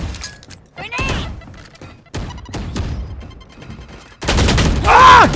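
Video-game combat with scattered bursts of gunfire and sharp impact cracks, ending in a loud, close grenade blast; faint voices sit under the action.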